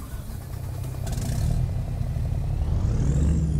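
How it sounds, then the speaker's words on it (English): A mid-pitched MAN 520HN truck engine in American Truck Simulator cranks up and settles into a steady, rumbling idle with a slight rising rev near the end. "let's test out the engine, see if the other engines make different sounds"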